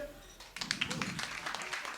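Audience at a Lviv cabaret comedy show breaks into applause that starts abruptly after a quiet moment and continues as a dense patter of claps, fairly close and moderately loud.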